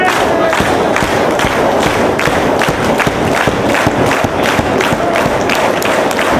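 Dense wrestling arena crowd at a Ring of Honor show in Dayton, Ohio, loud and steady with cheering, clapping and scattered thumps from the ring throughout.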